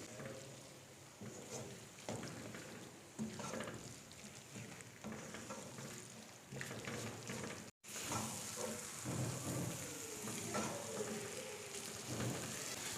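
Brains frying in spices on a low flame, a steady soft sizzle with occasional stirring scrapes, constant and fairly close throughout.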